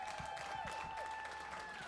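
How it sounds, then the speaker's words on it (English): Audience applause for performing artists at a Juneteenth freedom songs event, heard faint and distant under a steady sustained tone and some muffled crowd noise. "Can we give our artists another round of applause, please?"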